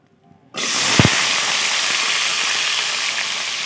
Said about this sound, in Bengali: তেল খুব ভালো করে গরম হয়ে গেছে এবারে ঝিঙে আলুগুলা কড়াইতে দিয়ে দিচ্ছি